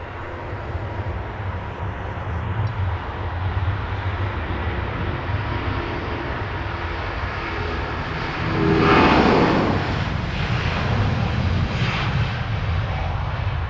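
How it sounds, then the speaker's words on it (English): A British Airways Airbus A350-1000 takes off at Heathrow, a steady broad jet roar that swells into a louder rasping rush partway through, close and continuous with no talk. "Next one rolling already. British Airways A350 1000."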